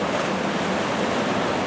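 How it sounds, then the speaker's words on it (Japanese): Large storm waves surge and break along the shore near Hayama as a bomb cyclone churns the sea, a steady, loud, broadband roar of surf with wind buffeting the microphone and no voices. "お、波が大きい、あ、ピタピタで来てるぞ"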